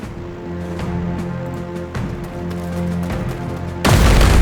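Distant artillery thuds and gunfire in the strategy game Strategic Mind: Spirit of Liberty, a string of muffled booms spaced roughly half a second apart over a droning backdrop, ending in a louder, fuller explosion.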